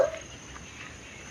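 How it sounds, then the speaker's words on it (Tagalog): A dog barks nearby with a sharp yelp at the start and another at the end, set against a steady background hiss, with no talking. "Aba, may isa pang aso."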